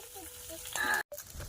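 Cooking oil sizzles and crackles in a hot pan with chillies at a Bengali food stall, a steady close hiss that swells for a moment, breaks off briefly, then resumes, with faint background voices.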